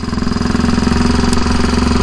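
A 1934 Velocette KTT motorcycle engine runs steadily and close by, a loud, even mechanical drone with a fast, regular firing pulse and no speech.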